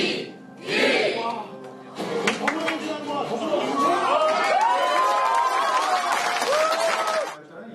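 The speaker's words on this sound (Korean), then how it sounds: "조국 혁신당 상황실에선 환호성이 터졌습니다" Crowd cheering and applause erupt in an election-night party situation room as exit poll results are announced, starting with a short countdown, then sustained loud shouting, clapping and excited chatter for several seconds before fading.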